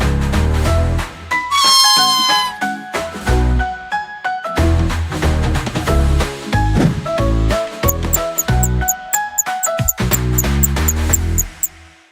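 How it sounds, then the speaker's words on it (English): Mother cat meowing in a children's nursery rhyme song, heard as a few cartoonish meows set within bright, busy music with singing throughout. "Mother cat said meow, meow, meow"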